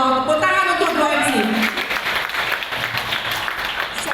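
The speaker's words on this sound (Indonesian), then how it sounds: "Tepuk tangan untuk duo MC." A business seminar audience claps for a pair of MCs, starting under a voice that gives way to continuous clapping.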